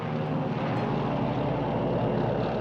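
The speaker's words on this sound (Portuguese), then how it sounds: "Um avião sobrevoa bem baixo" A World War II supply airplane flies low over the Burmese jungle, its engine drone loud, steady and unbroken throughout, with no talking.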